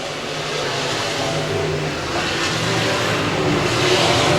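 Race cars roar around Humboldt Speedway's bullring oval during qualifying, with several engines droning loudly and steadily together as they battle three-wide for the lead.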